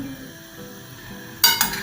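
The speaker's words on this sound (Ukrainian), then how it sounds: "Я буду смажити їх, щоб такі були зажаристі" Eggplant pieces frying in a generous pour of oil in a pan give a low, steady sizzle, then a few sharp scrapes and clinks of stirring near the end.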